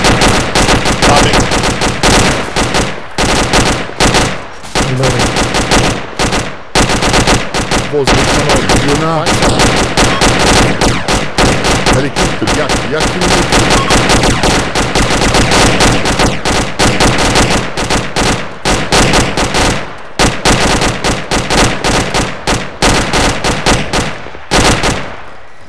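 Rapid automatic airsoft gunfire crackles almost nonstop through a MilSim game at Rook Valley, loud and near, in dense bursts with brief gaps, while radio-style voices call out orders over it.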